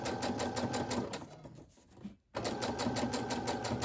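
A sewing machine stitches through a small paper envelope, its rapid needle rattle running steady and close, pausing briefly for about a second before resuming at full pace.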